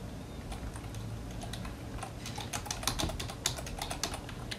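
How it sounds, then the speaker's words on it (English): Fingers tap out a password on a computer keyboard in quick, uneven clicks, quiet and close, with a few sharper key strikes toward the end. "I'm gonna type"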